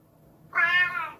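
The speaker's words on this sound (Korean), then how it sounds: "지금 고양이는 몰아달라고 난리인데 지금 장난감을 물고 왔습니다." A cat gives a single clear, close meow lasting about half a second, rising and then trailing off, after a brief quiet lead-in.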